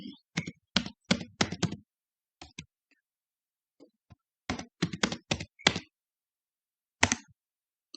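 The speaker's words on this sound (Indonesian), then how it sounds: "Di sini kita akan ketik route print." Keys clack on a computer keyboard in short quick bursts as a command is typed, with pauses between groups of strokes; close and fairly quiet, with no one speaking.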